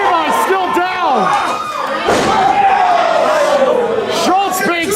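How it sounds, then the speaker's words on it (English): At a wrestling event, a wrestler is slammed onto the edge of the ring, where steel ring beams sit under thin padding. A heavy thud lands mid-clip amid a loud crowd, with excited commentary running throughout. "being slammed on the edge of the ring"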